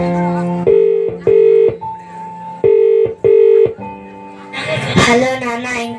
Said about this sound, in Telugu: సిబిసికి వెళ్ళి వచ్చిన నిస్సి వాళ్ళ నాన్నకు ఫోన్ చేస్తుంది